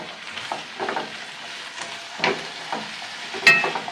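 Vegetables frying in a pan for a Ukrainian cabbage soup, with a steady sizzle and a few sharper stirring clatters, one louder scrape near the end, close and alone.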